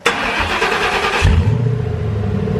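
A car engine cranks briefly, catches, and settles into a low, steady idle close by.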